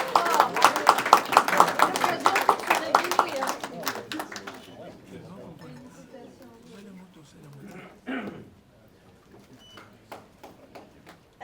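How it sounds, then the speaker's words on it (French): Applause for a graduate at a graduation ceremony, a dense burst of clapping that fades after a few seconds, with voices and a dog's whimpers and yips heard nearby. "on va l'applaudir"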